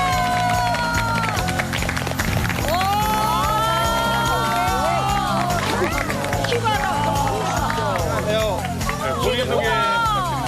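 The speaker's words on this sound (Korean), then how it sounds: "박수로 맞이해 주십시오" A television studio audience cheers and claps steadily throughout, joined by bright music with sweeping melodic lines, all loud and continuous.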